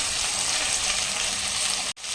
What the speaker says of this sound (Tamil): வெங்காயமும் பச்சை மிளகாலாம் பார்த்தீங்கன்னா நல்லா இந்த மாதிரி வதங்கும் போதே வெடிக்க ஆரம்பிக்கும்